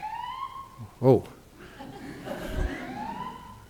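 A person's voice imitates a siren in a short, rising and falling wail, brief and fairly faint, followed by someone talking during a talk given in northern Thailand.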